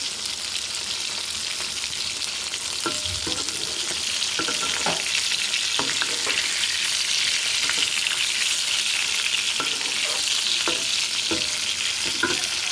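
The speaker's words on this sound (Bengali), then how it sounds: "দিয়ে কষে নিচ্ছি।" Chicken curry with eggplant sautéing in a pan, a dense, continuous hissing sizzle with intermittent stirring scrapes and clicks from a spoon against the pan.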